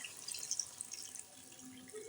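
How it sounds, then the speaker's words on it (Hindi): Water is poured into a thick kofta gravy in a cooking pot, a short, quiet trickle with soft splashy drips, close by and without any talk. "इस तरह से आपने पानी डाल देना है"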